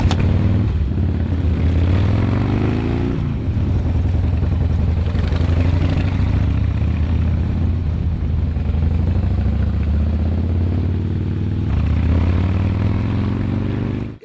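A Harley-Davidson motorcycle engine rumbles loud and close without a break, holding a deep, steady idle with slight rises in revs and no voices over it.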